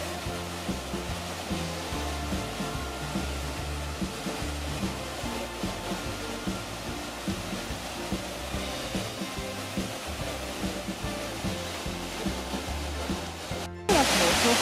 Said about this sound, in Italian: Questa ragazzi è la cascata più alta.